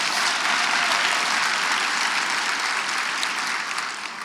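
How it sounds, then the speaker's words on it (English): A packed audience at a county State of the County address breaks into sustained, dense applause, an even wash of many hands clapping that holds steady and tapers slightly at the end. "Please give them a round of applause."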